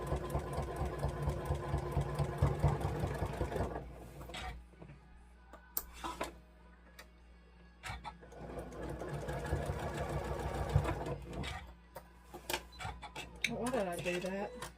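A sewing machine runs in long, loud, steady stretches while stitching quilt block fabric, pausing briefly between runs, with a person talking over parts of it.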